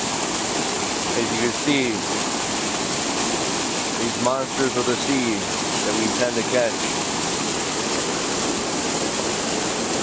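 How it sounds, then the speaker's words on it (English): A big waterfall on a Michigan river where salmon try to leap upstream gives a loud, constant rushing roar while someone talks over it. "The giant waterfall that the salmon try to get up."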